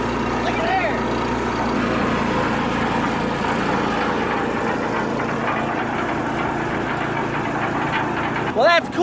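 Small engine running steadily after a choke start, settling into an even idle with a constant low rumble; someone talks briefly near the end.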